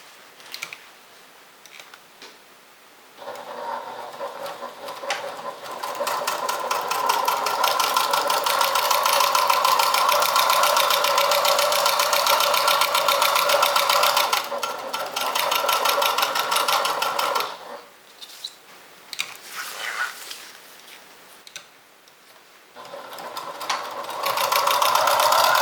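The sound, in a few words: sewing machine top stitching a makeup bag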